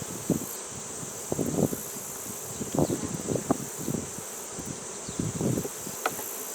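Honeybees in an open hive with open brood comb hum in a continuous drone, with louder buzzes as individual bees pass close by in irregular bursts.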